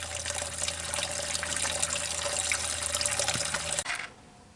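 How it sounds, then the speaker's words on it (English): Gasoline draining from a large engine fuel tank runs as a steady liquid pour for nearly four seconds, then cuts off abruptly, leaving a faint background hiss. "got our fuel all drained and the fuel line hooked back up"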